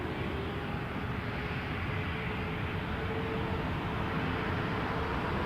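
An airliner taking off from runway 23 at Toronto Pearson, a steady broadband jet roar that holds loud and even throughout with no voices.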